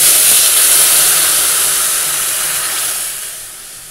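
Milk poured into a hot pan of fried ingredients bursts into a loud, close hiss of sizzling and steam that gradually fades over a few seconds, with no talking.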